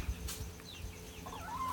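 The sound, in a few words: chickens clucking in a coop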